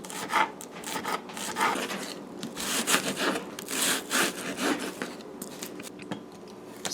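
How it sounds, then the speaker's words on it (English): Knife chopping celery and broadleaf thyme for a Guyanese metemgee soup, a run of uneven close scraping, rubbing strokes on a cutting board with no talking. "So we're going to chop our seasonings here and get these ready as well"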